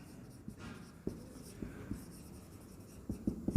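Working for a two-variable limit problem written out by hand, a few soft scratching pen strokes, close and quiet with brief taps, without talk.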